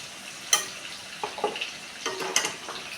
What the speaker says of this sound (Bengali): এই পেঁয়াজ কুচি, কালো জিরে, কাঁচা লঙ্কার সাথে পেঁয়াজ বাটা, রসুন বাটা আর আদা বাটা খুব ভালোভাবে কষাবো।